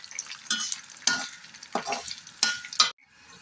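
Curry leaves crackling in hot oil while homemade hair-growth oil is cooked, with a steady low sizzle broken by several sharp bursts of spattering and stirring, close and fairly quiet.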